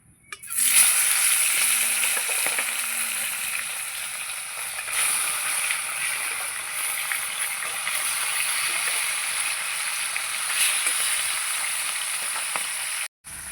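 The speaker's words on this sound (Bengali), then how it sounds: "প্রথমে মাথাগুলো ভেজে নেব।" Tilapia fish heads frying in well-heated oil, a loud, dense, continuous sizzle that erupts at once and holds steady, with small crackles and a faint clack near the end, close and alone.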